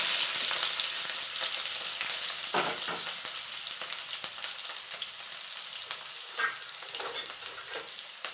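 Chopped onion hits hot oil already holding mustard seeds and curry leaves, giving a loud, continuous close sizzle with scattered crackles and stirring scrapes throughout; no one speaks.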